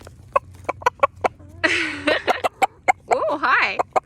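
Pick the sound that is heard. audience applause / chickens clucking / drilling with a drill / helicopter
chickens clucking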